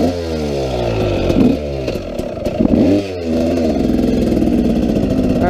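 A KTM dirt bike fitted with a red power valve spring revs hard and loud up close, its two-stroke engine rising and falling through several sharp throttle blips before settling into a steady, buzzy high rev.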